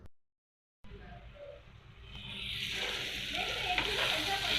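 Onion, tomato and capsicum sizzling in a pan while being stirred, a steady frying hiss that swells and brightens after a brief silent gap, close, with no talking.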